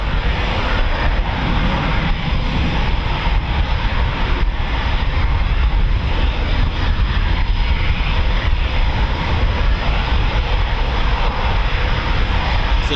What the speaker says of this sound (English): So this is the Royal Saudi Air Force Typhoon, part of the Cobra Warrior exercise.